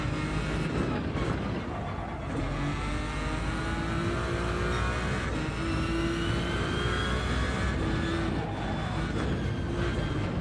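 A BMW hypercar in a Nürburgring racing game drones with a steady engine whine, its pitch climbing and shifting through gears over a sustained loud roar, with no voices over it.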